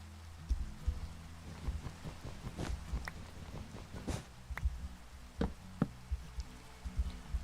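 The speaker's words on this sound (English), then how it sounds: "Let it rain, Minecraft." Rain falls in the video game Minecraft, a faint, steady patter broken by scattered clicks and soft taps, with no speech.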